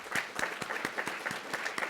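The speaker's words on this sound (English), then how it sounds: "I want to give her a little bit of applause" Sparse, fairly quiet applause from a small audience at an artist talk, individual claps landing in a loose, uneven rhythm.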